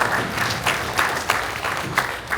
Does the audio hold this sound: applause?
yes